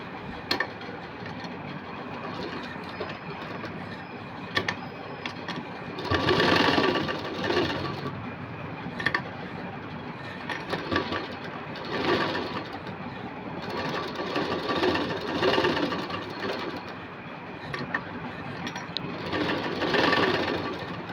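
A sewing machine stitches lace, running in repeated loud bursts of rapid mechanical whirring separated by quieter pauses, close up.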